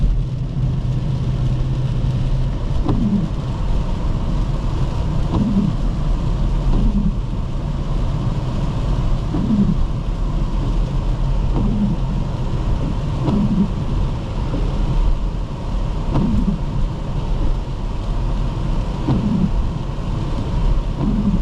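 Rain and wind buffet a 2001 BMW X5 4.4i on the road, heard from inside the quiet cabin as a steady muffled rush over low road rumble, with soft rhythmic thumps recurring every couple of seconds.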